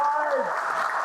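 Theatre audience applauding the returning cast on stage at the Magnus Theatre 10x10 showcase, a steady wash of clapping with a voice speaking over it.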